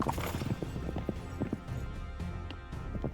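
Horse hooves clip-clopping in the video game Citadelum, a quick run of close hoofbeats with faint neighing mixed in, busy and continuous over the whole stretch.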